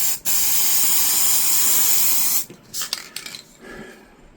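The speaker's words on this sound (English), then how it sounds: "T2 Combat matte brown primer." A can of T2 Combat matte brown primer sprays onto tabletop wargame terrain in one loud, continuous hiss of about two seconds, then short, fainter bursts and clicks follow.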